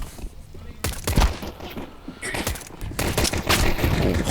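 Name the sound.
Glock pistol gunfire in a video game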